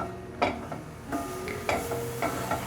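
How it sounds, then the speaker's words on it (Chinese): Shiitake mushrooms stir-fry in a little oil in a wok during vegan home cooking, with a quiet sizzle broken by several distinct scraping strokes of a utensil against the pan at regular intervals. "把香菇放下来炒， 把香菇炒香。"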